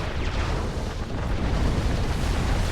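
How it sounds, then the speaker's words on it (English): A dense barrage of Cybran artillery shells bursts in the strategy game Supreme Commander 2, a loud, continuous rumbling roar of overlapping explosions with no clear gaps between impacts. "that's a lot of Cybran artillery"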